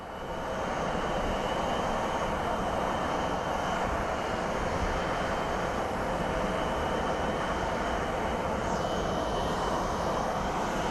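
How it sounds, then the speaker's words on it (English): American Airlines A321 airliner at Phoenix Sky Harbor International Airport, its engines roaring loudly and steadily throughout, a continuous dense jet rumble with no talk. "Up next is an American Airlines A321 coming from Charlotte."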